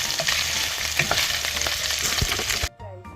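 Vegetables for a mixed-vegetable dish frying in hot oil while being stirred in a pan, a steady close sizzle with scraping stir strokes, cutting off abruptly near the end to quieter low clatter.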